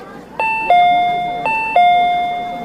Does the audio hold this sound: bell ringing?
yes